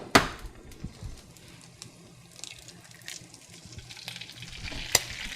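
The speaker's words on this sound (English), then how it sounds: "you're gonna take that greased egg mold and you're gonna put it in your pan. And then you're gonna crack your egg straight into the mold" An egg cracked into a greased egg mold in a pan frying with a soft, steady sizzle, close and fairly quiet, with a few small clicks and taps of the shell and mold.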